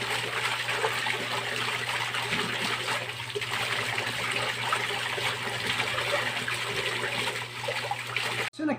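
Hailea HX 6830 water pump, rated 4400 L/h, pumping water for a fish pond, giving a steady loud gushing splash with a low motor hum beneath, continuous until a brief cut near the end.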